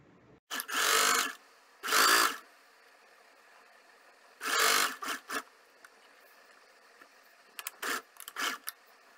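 Home sewing machine stitching a men's kurta from the wrong side at a folded notch, running in two long close bursts, then a longer run and several short stuttering spurts with quiet gaps between.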